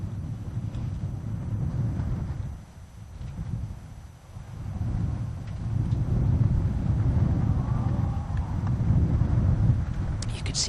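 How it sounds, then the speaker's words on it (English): Strong wind buffets the microphone on an open golf course during round 3 of the BMW Ladies Championship, a steady low roar that swells and eases in gusts and fills the whole stretch. "You can just tell how windy it is."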